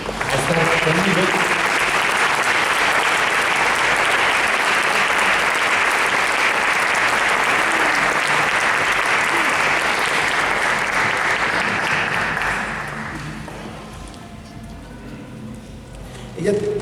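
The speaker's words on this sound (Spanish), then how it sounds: "un fuerte aplauso para mi alumna Ana Paula" Loud, sustained audience applause for a student guitarist, dense steady clapping that fades out near the end as a voice begins speaking.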